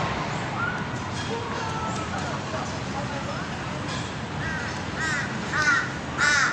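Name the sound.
crow cawing from a roof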